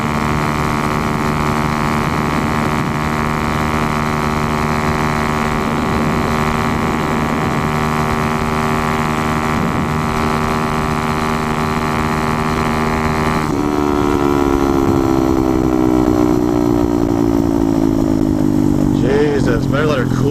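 A small engine chugs along at about 72, below full throttle, with a steady droning hum. Partway through, its pitch drops and it keeps running at a constant loud level.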